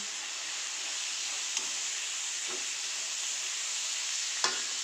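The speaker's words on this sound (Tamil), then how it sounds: "கொஞ்சம் கொஞ்சமாக இந்த நெய்யில் இந்த கேரட்டை தள்ளிக்கிறோம்" Carrots frying in ghee make a steady, dense sizzle up close, with a couple of soft clicks from the pan or spoon along the way.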